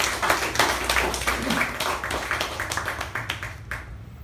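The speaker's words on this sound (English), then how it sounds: "can we have a huge round of applause for Toastmaster Shiva?" A Toastmasters meeting audience gives a round of applause for a club officer: dense, steady clapping from many hands at moderate volume, continuing for a few seconds before cutting off abruptly.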